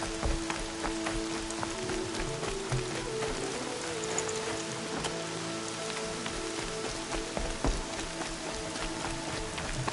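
Steady rain patters on surfaces in the video game Horizon Zero Dawn, dense and continuous with scattered sharper drops, filling the whole stretch with no talking.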